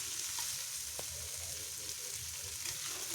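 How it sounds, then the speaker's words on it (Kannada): Chopped onions, green chillies and curry leaves frying in oil in a pan, a soft, continuous sizzle with occasional small pops, fairly faint and steady with no voices. "ಎಲ್ಲನೂ ಚೆನ್ನಾಗಿ ಫ್ರೈ ಮಾಡ್ಕೊಳ್ತಿದ್ದೀನಿ."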